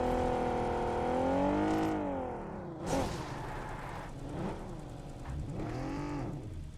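A car engine in PUBG Mobile revs with a rising and falling drone that fades as the vehicle drives off, then a few quieter engine swells follow, with no talk.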